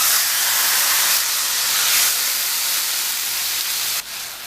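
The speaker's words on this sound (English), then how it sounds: "I'm going to throw the flank steak right in here" Flank steak sears loudly in a hot pan, a steady, dense sizzle that holds for about four seconds and then drops off sharply near the end, with no talking over it.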